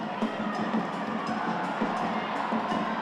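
Crowd at a Women's Super League football match, Bristol City against Everton, making a steady, fairly distant wash of cheering and chatter with occasional higher shouts, no single voice standing out.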